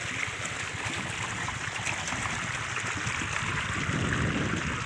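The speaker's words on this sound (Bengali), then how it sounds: "এ দেখুন জল আসছে" Motor-pumped water pouring at pressure into a farm field, a constant close rushing, splashing flow with no talking.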